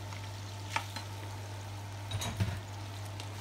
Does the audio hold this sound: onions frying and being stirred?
yes